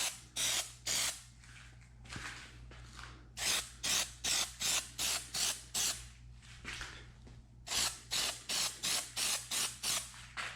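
An aerosol can of Plasti Dip liquid rubber coating sprays in rhythmic short bursts, hissing on and off in quick regular pulses. There is one brief pause midway, and a low hum sits beneath the spray.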